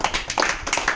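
A group of children clap briefly in a classroom, a quick scatter of uneven claps close by, with some faint voices mixed in.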